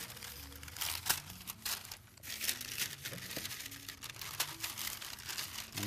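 Paper being crumpled and creased by hand while it is rolled into a piping cone for Christmas cookies, with repeated close crinkling and rustling bursts across the whole stretch and no talk.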